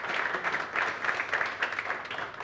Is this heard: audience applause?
yes